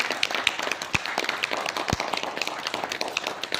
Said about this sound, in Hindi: सभी लोग ताली बजा करके उनका स्वागत करें